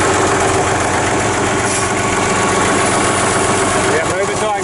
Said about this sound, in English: move it so I can get the tractor in